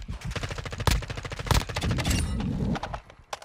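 Rapid gunfire from the Call of Duty DMZ video game, a dense burst of close, loud shots with heavy booming hits, tapering off after about three seconds.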